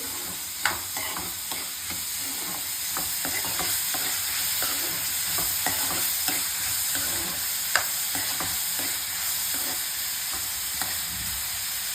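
Sliced onions frying in a pan for a Telugu-style fish curry, a loud continuous sizzle with frequent scraping stirs near the mic and no one talking.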